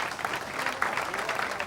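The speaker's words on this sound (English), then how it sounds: "I'd like everyone to clap the other geezer who you don't know what he done." Audience applause fills an evening show hall for a crowd honouring a guest, a steady dense clatter of many hands clapping at close range throughout, with no pause.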